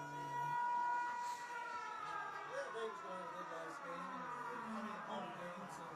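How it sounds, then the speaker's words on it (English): Sirens wail in the background during a high school football game between Point Pleasant and Winfield on senior night, rising and falling tones layered over crowd noise and a voice speaking. "we've got a lot of noise in the background here, a lot of sirens going off"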